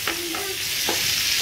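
Tandoori sparrow frying in a pan in a home Agri-style kitchen, with a steady sizzle and a few short scraping stirs as pieces are flipped, close and moderately loud.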